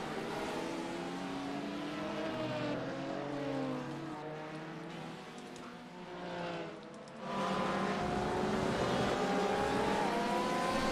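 Corvette and Porsche race cars howl through the gears in a sim racing game set in Brazil, with a steady, close engine whine that dips briefly as one passes, then surges back loud.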